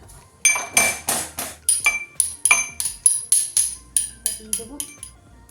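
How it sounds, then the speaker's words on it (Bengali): Ginger and green chili crushed by hand for a pitha recipe, about a dozen sharp, regular pounding knocks with clinking overtones, close and fairly loud, with no talking. "আমি এখানে একটু আদা আদা কাঁচা লঙ্কাকে থিতো করে দিলাম"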